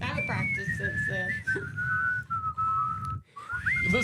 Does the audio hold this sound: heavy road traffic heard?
no